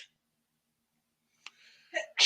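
A single sharp sneeze bursts out after near silence, followed by a short breathy inhale and a brief voice.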